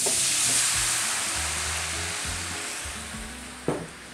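Starborough Sauvignon Blanc pours into sizzling diced shallots over medium heat, a loud broad hiss that slowly settles, followed near the end by a sharp clink or stir, with no talking.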